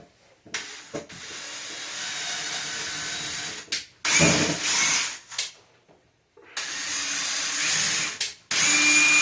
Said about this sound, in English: drill the holes to make life easier